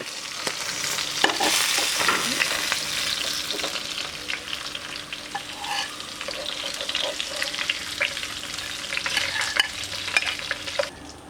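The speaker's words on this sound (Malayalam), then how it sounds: "ഇതുപോലെ നമുക്ക് ബാക്കിയുള്ളതും കൂടി വറുത്തെടുക്കാം" Piranha fish fry loudly in a pan, a dense crackling sizzle with spatula scrapes and stirring clatter near the start, settling to a steadier hiss, no voices.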